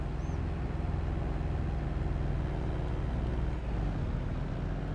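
A utility gator in Farming Simulator 22 on the Millstown map drives with a steady, loud, unbroken engine drone and low rumble throughout, with no talking.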